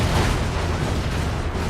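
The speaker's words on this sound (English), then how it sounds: "With plenty explosions." Explosions in the video game Crackdown 2, a dense, continuous rumbling roar of blasts and booms layered over one another, loud and sustained without a break.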